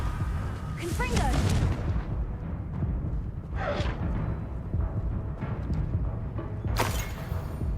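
Confringo blasting spell exploding in a Harry Potter wizard video game, heavy booming blasts with whooshing bursts, loud and close, while a voice speaks over the din.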